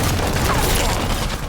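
Dense gunfire in the video game Halo Infinite bursts as a loud, continuous barrage of shots and blasts in a brief, busy moment.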